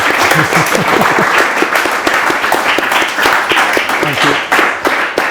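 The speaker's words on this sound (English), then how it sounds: "I think a round of applause is probably due" An audience at an artist's talk with a curator gives a round of applause, steady dense clapping from many people throughout, loud and close, with a few voices mixed in.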